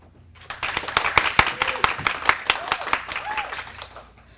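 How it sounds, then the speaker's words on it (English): Library audience at a Harry Potter Day event rehearsing applause on cue, a burst of sharp, fairly close hand claps starting after a brief pause and fading toward the end, with a few voices calling out. "we want you to applaud"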